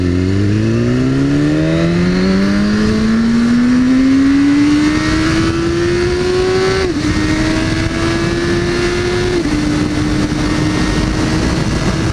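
A Porsche engine races hard, climbing steadily in pitch through long loud revving pulls with brief shift dips, constant and close with no talk.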